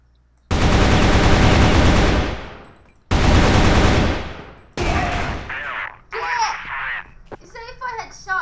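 Bursts of AK rifle automatic fire in the shooter game Crossfire: two long, loud sustained volleys, then shorter shots mixed with chirpy game effects and talk.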